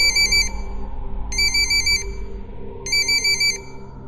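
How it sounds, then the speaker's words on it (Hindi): A phone rings three times in a row, each burst a bright electronic trill lasting about half a second to a second. The rings are clear and near over a low, steady rumble of background music. "तभी उस शांति को भंग करते हुए पुष्कर का फोन बजा।"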